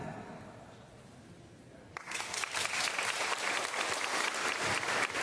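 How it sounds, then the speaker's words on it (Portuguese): Quiet room tone gives way abruptly to a burst of audience applause, steady and fairly close, continuing evenly to the end. "Um aplauso para mais forte, gente!"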